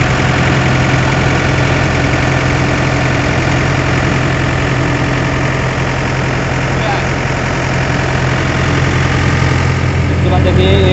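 Yanmar chain harvester engine running at a steady idle, loud and constant with a low, throbbing hum throughout, close to the listener.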